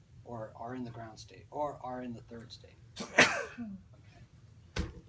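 A single sharp sneeze bursts out from someone in a lecture hall, cutting briefly across an instructor's steady talk about physics, followed a moment later by another short sharp burst.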